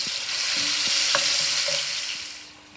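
An onion mix with popped caraway seeds fries over moderate heat for a vegetable curry, a close, continuous sizzle with a few stirring scrapes and taps, fading slightly at the end.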